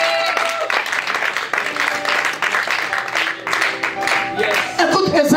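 Congregation in a church applauding God, a dense wash of clapping hands sustained throughout, loud and close, with singing or voices blended underneath.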